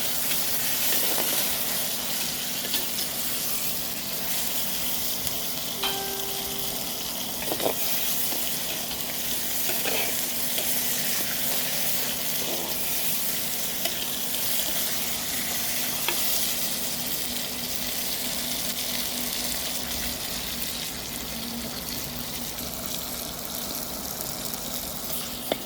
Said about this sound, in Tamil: நல்லா எண்ணெயில் நல்லா வதங்கட்டும்